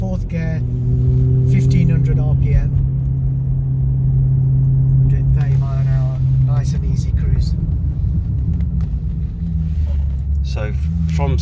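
Maserati Quattroporte engine cruising in 4th gear at about 1500 RPM and 130 mph after a carbon clean, a steady low drone and rumble inside the cabin with people talking over it throughout.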